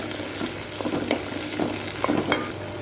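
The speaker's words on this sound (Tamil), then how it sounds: "கருவேப்பிலை கொஞ்சம் ஆட் பண்ணிக்கலாம் நல்லா கொஞ்சம் வணக்கி விட்டுலாங்க" Curry leaves sauté in hot oil in a pan for a South Indian oil brinjal gravy, giving a steady close sizzle with soft stirring scrapes throughout.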